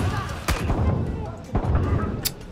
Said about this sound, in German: Irgendwo ist ein verkackter Mörser, ey.